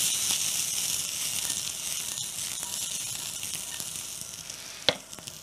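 Carrots and snow peas sautéing in a wok, a bright continuous sizzle with faint stirring clicks, close and even, ending with a sharp scrape or clank near the end.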